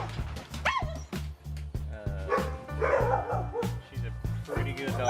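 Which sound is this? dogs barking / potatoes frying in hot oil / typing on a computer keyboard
dogs barking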